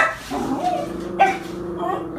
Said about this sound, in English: The dogs are going nuts in here.